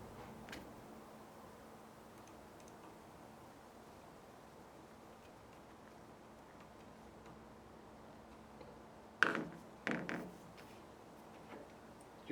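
A Phillips head screw is driven into a brass Rochester adjustable gauge assembly: a short cluster of crisp clicks and scrapes near the end, after a long stretch of faint, steady background hiss.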